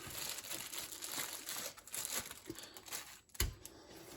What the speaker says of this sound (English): Now we'll get the lean piece cut.